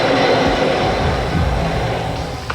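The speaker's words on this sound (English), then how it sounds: "You got a train coming up behind you in less than a minute." A loud, steady rumble of a train rolling close by, broad and continuous with a metallic rattle, fading slightly toward the end.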